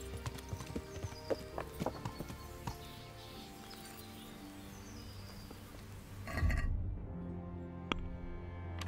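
Horse hooves clip-clop in a steady rhythm while riding in Kingdom Come: Deliverance, the trotting beats fairly faint over game ambience before fading out near the end.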